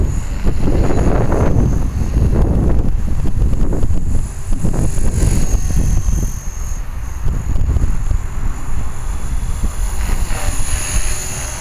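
Strong outdoor wind blows straight into the microphone at a radio-controlled 450 helicopter flying session, making a loud, gusty low buffeting roar that surges and eases across the whole stretch with no talking.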